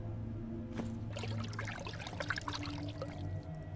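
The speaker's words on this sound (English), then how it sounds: "Select a container to pick it up, then select another container to pour it into." Liquid pouring from a bottle in the video game Haunted Hotel XV: The Evil Inside, a splashing, trickling stream over a soft background music drone, lasting a few seconds.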